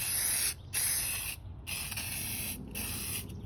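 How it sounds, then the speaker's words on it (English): Bursts of hissing spray paint from an aerosol can, loud and close, pausing briefly between several long sprays. "Now if I can get my paint to spray."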